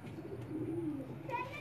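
A pigeon coos in a low, rolling call from a rooftop pigeon loft, fairly close and steady, with faint background noise and a brief higher chirp near the end.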